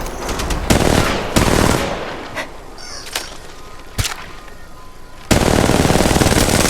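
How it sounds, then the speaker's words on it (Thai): Video game gunfire while the player is taking damage and being shot at: loud bursts of automatic fire at the start and end, with a few sharp single shots and thuds between, no talking. "ฉันได้รับดาเมจ แล้วกำลังโดนยิง"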